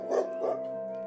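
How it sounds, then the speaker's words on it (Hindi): A dog barking outside gives two short, slightly muffled barks close together at moderate distance, with a faint steady tone underneath and no talking. "बाहर कोई कुत्ता भौंक रहा है।"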